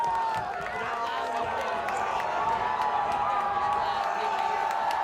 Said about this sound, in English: you hear the Durfee crowd getting loud here at the end of the half